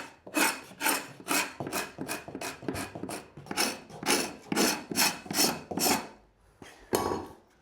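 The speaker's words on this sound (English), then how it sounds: "So we've got our trusty Linbide scraper. And let's just take away any old glue or a bit of build up of varnish." A carbide floor scraper drags repeatedly across a timber floor, lifting old glue and varnish build-up: about a dozen rough, raspy strokes in steady rhythm, close and fairly loud, then a short pause before a final stroke, with no talking.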